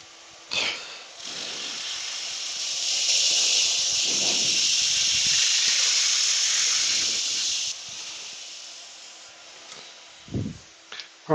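A sander with a 37mm head working inside a turned wooden bowl, grits 120 to 240, hissing steadily for about five seconds at moderate volume, with brief knocks and soft thumps before and after.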